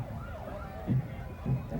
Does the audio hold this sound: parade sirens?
yes